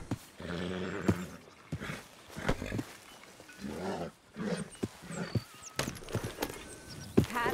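A horse in Red Dead Redemption 2 whinnies and snorts amid hoof clatter and rodeo-like commotion, several loud neighs and thumps spread irregularly over a few seconds, with no voices.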